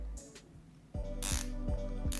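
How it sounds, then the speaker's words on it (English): A Hazet Hyper Series ratchet turns a 3/8 inch deep socket, giving a fine, even clicking buzz in several quick close strokes separated by short pauses, with no voices. "I got Hyper Series ratchet from Hazet."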